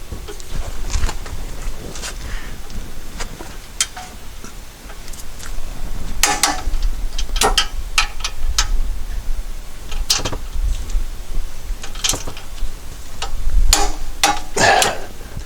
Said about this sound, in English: The internet told me to torque these big bolts to 129 foot-pounds.